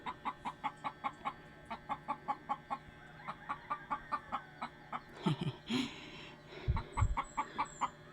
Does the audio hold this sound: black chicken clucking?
yes